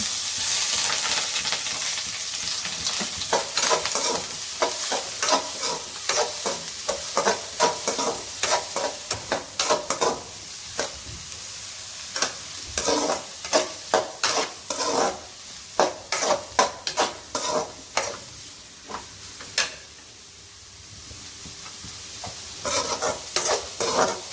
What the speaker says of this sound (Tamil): எண்ணெய் ஹீட் ஆகட்டும். ஆனியன் போட்டுக்கோங்க.